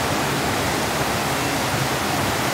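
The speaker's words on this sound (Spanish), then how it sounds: "Y vean el mar." Surf waves on a tropical beach at Mompiche, Ecuador, making a loud, continuous broadband roar and wash with no distinct breaks, close and steady throughout, no voices.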